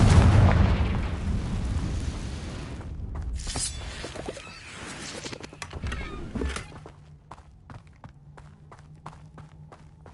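Confringo blasting spells in the Hogwarts Legacy game set off heavy booming explosions with rumbling debris, loud at first and then thinning into scattered sharp cracks and taps as the blasts die away.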